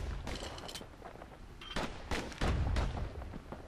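Slinger pistol fire in the action game Bastion, a string of sharp cracking shots with deeper booms, several bursts in quick succession at moderate loudness.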